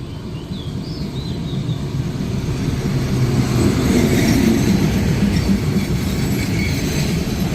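A tourist train in Thailand rumbles past close by, a steady low roar of wheels on rails with faint high squeals, swelling slightly louder midway.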